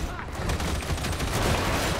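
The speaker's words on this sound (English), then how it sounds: "I hear a lot of gunshots." Dense, continuous gunfire from the Squirtide: Auric Maelstrom video game, rapid overlapping shots and bursts filling the whole stretch at a steady loud level with no pause.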